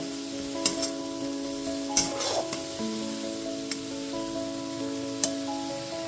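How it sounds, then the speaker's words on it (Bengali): Onion, ginger, garlic and green chilli masala paste frying over a medium gas flame, a soft steady sizzle with occasional spoon clicks and stirring scrapes, heard up close, and a faint steady tonal hum underneath. "গ্যাসের ফ্লেমটা মিডিয়ামে রেখে যতক্ষণ না পর্যন্ত পেঁয়াজ, আদা, রসুনের কাঁচা গন্ধটা চলে যায় ঠিক ততক্ষণ পর্যন্ত মশলাটাকে খুব ভালো মতো কষিয়ে নেব"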